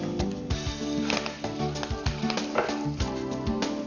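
Steady crackling sizzle of curry leaves frying in hot oil, with occasional sharper pops and a spoon stirring in the pan.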